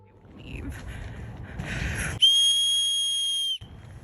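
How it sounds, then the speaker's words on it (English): A shrill emergency whistle blown at a bear in the forest, one loud sustained blast of over a second after some rustling movement, then fading back to quiet ambience. "Laura blowing her emergency whistle"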